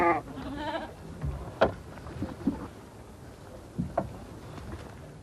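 Goats in a village in the Taklamakan desert bleat several times, a few short calls standing out over quieter background noise and scattered movement.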